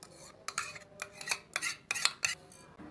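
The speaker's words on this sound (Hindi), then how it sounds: "अब इसको अंडों के साथ अच्छी तरह से दही को फेंट लेंगे।" A utensil whisks yogurt and eggs in a bowl, producing a quiet, close series of rhythmic scraping and clinking strokes in short bursts with brief pauses between them.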